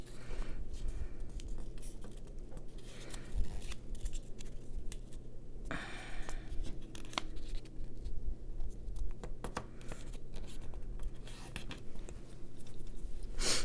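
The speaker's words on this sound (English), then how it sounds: "You just take one side and fold it over" Scrap paper is folded by hand into small junk-journal envelopes. Quiet crinkling and soft rustling rise and fall steadily at close range, with scattered light taps.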